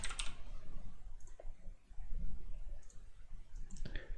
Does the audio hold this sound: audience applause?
no